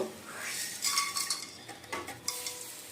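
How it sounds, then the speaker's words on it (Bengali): Whole garam masala spices going into a hot nonstick kadai, with close spoon clinks and stirring scrapes over a faint sizzle in a short burst. "কড়াই গরম হয়ে গেছে, আর এখন সব মশলাগুলো কড়াই দিয়ে নেব।"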